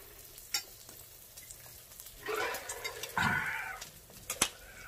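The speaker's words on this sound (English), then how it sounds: "But I want to get a good sear on this pork belly here" Pork belly searing in a hot pot, a soft background hiss broken by sharp utensil clicks and two louder bursts of sizzling as the meat is moved and pressed against the pan.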